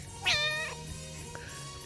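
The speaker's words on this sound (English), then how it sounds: "That is gonna weird out somebody who normally doesn't hear their cat when they're listening to podcasts." A pet cat gives one clear, drawn-out meow close to the microphone, loud at first and then trailing off. A faint second chirp follows against a quiet indoor background.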